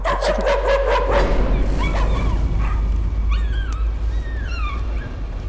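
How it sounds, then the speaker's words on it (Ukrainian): A dog in the horror video game Layers of Fear barks, whimpers and yips in a run of short, fairly close calls, alone with no talk. "Собака."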